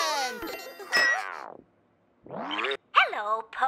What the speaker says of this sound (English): It was Po's turn to answer the tubby phone.